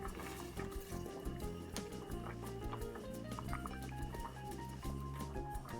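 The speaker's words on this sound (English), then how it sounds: "Let's add the 1 pound of spaghetti to the boiling water." One pound of bronze-die-cut spaghetti slides into a pot of boiling water, a steady churning bubble with light splashes and drips running continuously and fairly loud, with no voices.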